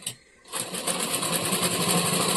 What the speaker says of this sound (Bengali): প্রথমত আমি একটা সিঙ্গেল করে সেলাই করে নিব তারপরে আবার ভাজ করে আরেকটা সেলাই করবো